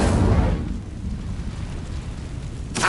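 An Incendio fire spell in a Hogwarts game bursts with a loud whooshing roar that quickly fades into a low rumbling hiss, then a second sharp flare erupts at the end.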